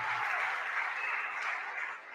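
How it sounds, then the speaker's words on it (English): An audience applauds at a speech by South African minister Naledi Pandor, a continuous, fairly distant wash of clapping that holds steady throughout and fades slightly at the end. "And I want us to give a round of applause to Comrade Allen"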